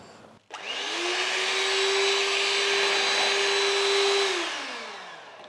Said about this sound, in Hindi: अब मैं इसमें डालूंगी आइसिंग शुगर। पहले इसको मिक्स करूंगी, फिर बीट करूंगी।